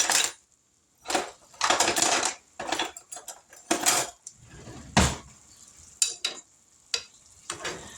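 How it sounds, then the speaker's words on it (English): A spoon stirring peas and greens seasoned with bacon grease in a pot, irregular close clinks and scrapes against the pot in bursts, with quiet gaps between. "Find a spoon to stir those peas with"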